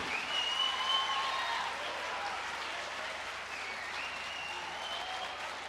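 A church congregation claps steadily and loudly, a sustained wash of applause that continues evenly throughout, with faint voices mixed in.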